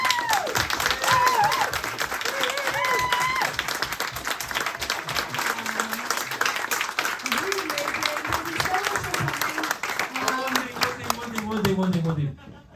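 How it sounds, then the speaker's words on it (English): Audience at a sign painters' talk claps in a long, full round of applause, with whoops and voices calling out over the clapping until it cuts off abruptly. "give them a round of applause"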